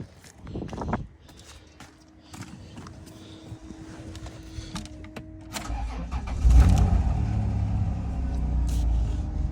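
An auction vehicle, hooked to a jump pack, cranks through scattered clicks and knocks, then catches and settles into a steady low idle near the microphone with no talk over it.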